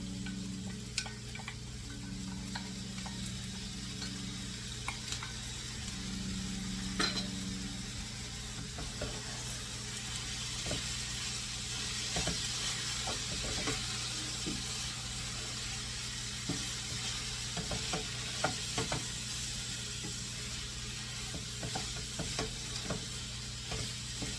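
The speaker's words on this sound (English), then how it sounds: "We're gonna put the ground meat back in it with the onions." Ground bison meat and onions sizzle steadily in a pan with ketchup and seasonings, with intermittent scraping and stirring clicks over a constant frying hiss throughout.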